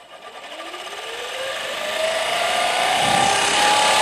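Electric motor driving a classroom elevator model, starting up with a loud whirring whine that rises steadily in pitch and grows louder over a few seconds, close and without talking.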